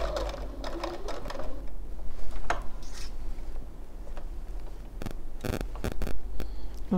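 A sewing machine stitches embroidery on a fabric make-up brush holder, with a steady mechanical hum broken by sharp rhythmic clicks and a few short bursts, close and alone.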